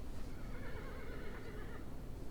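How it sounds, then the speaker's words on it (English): A horse whinnies in a long, wavering neigh with a slightly distant quality, a fantasy tabletop sound effect played alone over a dense, steady background. "That was a horse."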